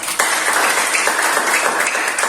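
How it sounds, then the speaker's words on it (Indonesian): A classroom full of students claps and applauds steadily throughout, a dense patter of hands. "Tepuk tangan untuk kalian semua."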